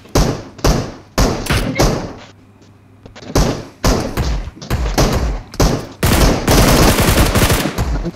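Loud, close gunshots in the mobile battle-royale game PUBG Mobile, first as separate heavy single and double shots with a short pause, then as a sustained rapid automatic burst near the end.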